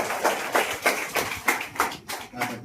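A church congregation claps together in a steady rhythmic burst of applause, fairly close and lively, for a few seconds.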